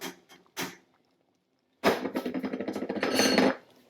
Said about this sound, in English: Sorry about the noise, and you keep stirring.